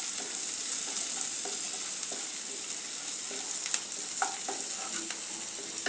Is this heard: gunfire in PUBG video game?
no